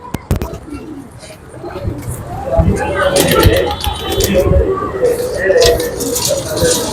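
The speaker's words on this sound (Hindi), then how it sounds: "ये अली वाला कबूतर है" An Ali wala pigeon coos at close range, its soft low calls repeating beneath bustling handling noise and people talking nearby.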